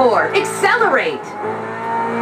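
A game car in Test Drive Unlimited 2 revs and accelerates with rising, sweeping engine pitch and a brief tire squeal. A voice speaks over it before a steady engine drone carries on.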